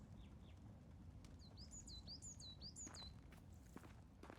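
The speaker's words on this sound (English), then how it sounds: "The birds always sound so nice in this game." Small birds chirp in the ambient world of the video game Rising World, a quick run of bright, high tweets in the middle of the stretch over a soft, constant background, faint and fairly distant.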